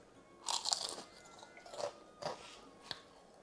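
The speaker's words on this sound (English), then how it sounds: "Lots of crunch from the onions, from the spinach, crispy spinach leaves" Close, loud crunching bites into crispy spinach pakoda chaat (palak patta chaat) with fried spinach leaves and onions: a burst of crackly chewing, then three shorter crisp crunches spaced apart, with no talking.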